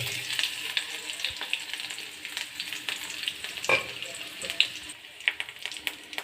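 Chopped green chillies dropped into hot oil with cumin and mustard seeds, crackling and spitting in steady close bursts with a few louder pops, while the pan is stirred.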